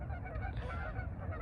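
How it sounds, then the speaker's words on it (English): Geese honk steadily in a dense, continuous clamor while squabbling with ducks outdoors, a loud flock close by with overlapping calls throughout. "little gang fight going on there between the ducks and the geese"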